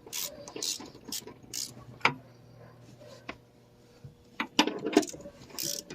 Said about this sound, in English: So we're going to go ahead and remove the first bolt.